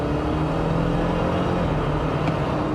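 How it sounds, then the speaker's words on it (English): A 2024 Jeep Wrangler Willys 4xe plug-in hybrid floored from a standstill gives a steady loud cabin drone of engine and road rumble, rising hum sustained and unbroken throughout. "let's go ahead and floor it here just from a stop"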